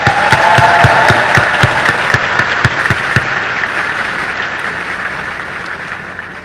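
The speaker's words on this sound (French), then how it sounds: "puissent nos applaudissements sincères t'inonder de joie" Sincere applause from an audience at a formal council address in Haiti, loud dense clapping with a few sharp individual claps early on, then sustained and gradually thinning toward the end.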